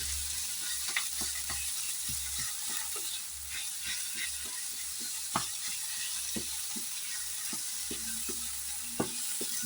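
Garlic sizzles steadily in a hot pan, a continuous bright frying hiss with scattered small pops and occasional stirring scrapes, close and even.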